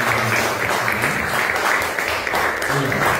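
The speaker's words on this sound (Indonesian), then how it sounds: "Kita beri aplaus dulu teman-teman kita" A classroom of students applauds together. The clapping is dense and steady and fills the whole moment. A voice is faintly present underneath.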